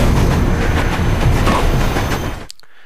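A train in the video game Rogue Trooper rolls along with a loud, dense rumble and rhythmic rail clatter, close and continuous, then cuts off abruptly near the end, with no voices.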